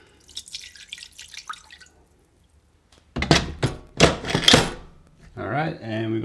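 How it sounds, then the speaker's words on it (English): Apple cider vinegar is poured into a pressure cooker for ribs: a short splashing trickle of liquid, a silent pause, then several dull thuds and a person talking. "we'll just add in 240 mils of apple cider vinegar"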